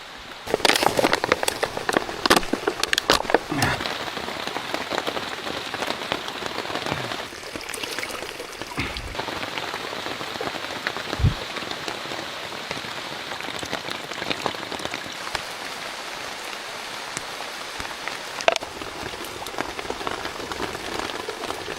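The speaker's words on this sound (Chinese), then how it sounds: "又下雨了" Steady rain patters down on leaves and surfaces, dense and continuous, with a few heavier drops and no voices.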